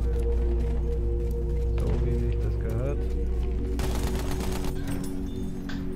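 Rapid gunfire rattles in the World War I shooter Battlefield 1 on the Verdun Heights map, bursts of shots repeating under a player talking excitedly over the constant rumble of battle.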